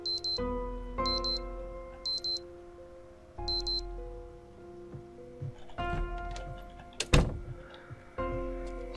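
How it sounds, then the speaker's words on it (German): An alarm clock in Project Zomboid rings in repeated short bursts of bright electronic beeping, with pauses between rounds and softer game sounds around it. "Jetzt stellen wir uns noch den Wecker."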